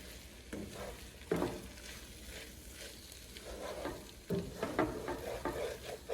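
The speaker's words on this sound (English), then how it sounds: "Once our egg is all scrambled, we'll go ahead and mix the rice back in." Kimchi fried rice with scrambled egg being stirred and mixed in a pan, with a steady frying sizzle under scraping and tossing, and two louder bursts of stirring partway through.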